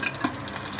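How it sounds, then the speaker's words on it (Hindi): Sprouts being sautéed in a pot for Indian sprouts pulao, a soft sizzling and stirring texture with light scraping, steady and close, with no talking. "इसे हमें अच्छी तरह सौते करने हैं"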